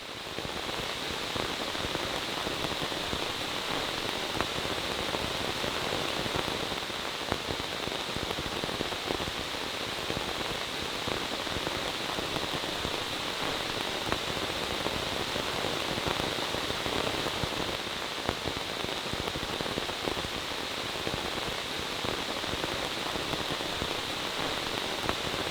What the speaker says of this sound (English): suddenly the rain started coming down much harder